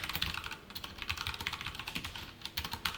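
Fingers type quickly on a computer keyboard up close, a steady run of light, crisp key clicks with a few firmer taps, quiet and without any talk.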